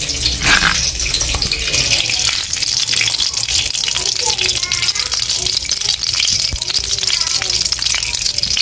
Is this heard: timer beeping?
no